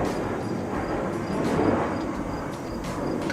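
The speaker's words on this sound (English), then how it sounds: "we've got this giant plane going above us, because I live next to an Air Force base" A large plane flies low overhead next to an Air Force base, a loud steady broadband roar that swells slightly and fills the whole moment with no talk.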